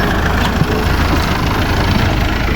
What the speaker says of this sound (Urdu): صبح سویرے ٹریکٹر اور بلیڈ لے کے کام کے لیے جا رہے ہیں